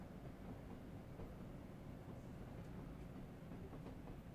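Trains running around Brighton station on the London Commuter route in Train Sim World 4 give a steady, quiet rolling rumble throughout, with faint rhythmic clicks over the rails.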